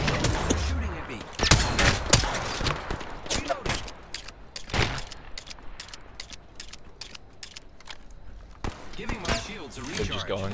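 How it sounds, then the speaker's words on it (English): Video game gunfire, sharp loud shots and short bursts arriving in irregular clusters, with mechanical clicks and rattles between them and a voice speaking over the action. "Shooting at me."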